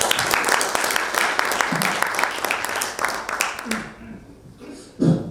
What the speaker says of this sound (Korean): 큰 박수로 모시겠습니다